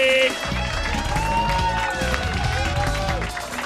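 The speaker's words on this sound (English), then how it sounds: "so this is authentic applause" An audience at the Royal Oak Show, a live stage event, applauds steadily and warmly throughout, a dense wash of clapping with a few tonal sounds over it and voices mixed in.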